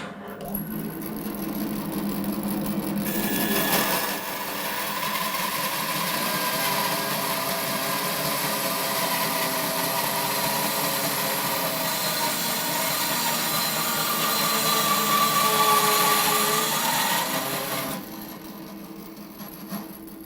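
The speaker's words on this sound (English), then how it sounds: "we've got a piece of 8-inch oak that we're just going to cross cut" A Record Power BS350S 14-inch bandsaw with a 1.5 horsepower motor cross-cutting an 8-inch oak board, a steady loud cutting drone that starts after a brief motor hum, holds for about fifteen seconds, then drops back to idle.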